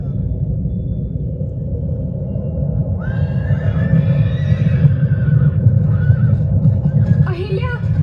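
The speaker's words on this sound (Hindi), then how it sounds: "इस ओर बहुत तेजी से घोड़े आ रहे हैं।" Several horses charge in at speed, a close, loud rumble of galloping hooves with sharp neighing and whinnies breaking out over it, while people talk during the approach.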